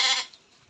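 A single short bleat from a goat at a farm, close and fairly loud, fading quickly into near silence.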